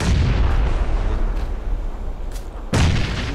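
A grenade blast in the battle royale shooter PUBG on the Erangel map, a loud, close, booming burst near the end following a stretch of quieter rumble and a couple of fainter thuds.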